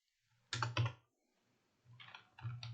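Java code is typed on a computer keyboard in a few short, close bursts of key clicks separated by quiet pauses, soft overall and with no speech.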